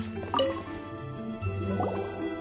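Water being collected in Genshin Impact, a few soft drips and squishy liquid splashes with a light filling gurgle, close and clear over steady background game music.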